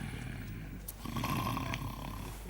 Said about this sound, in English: You're snoring again.